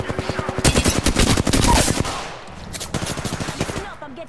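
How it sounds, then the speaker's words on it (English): Rapid automatic gunfire in Apex Legends, a fast burst of sharp, loud shots for about two seconds, then a short pause and another quicker volley, close and punchy. "I'm getting shot at"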